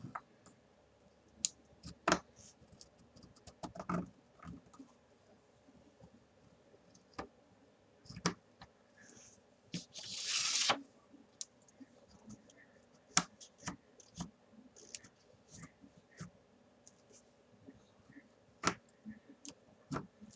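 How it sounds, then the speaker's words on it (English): A craft knife scores and slices paper while an altered clock is being made, giving scattered sharp clicks and ticks with one brief louder hissing cut midway, fairly close with no talk. "It doesn't take you 4 or 5 swipes with your knife to get it to cut."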